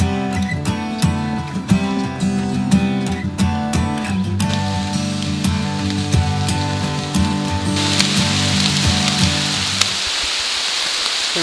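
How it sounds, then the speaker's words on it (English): Heavy rain falling steadily on hikers on the Appalachian Trail in the Presidential Range, a dense continuous patter that strengthens toward the end, heard alone without talk. "It rained all night, raining hard right now."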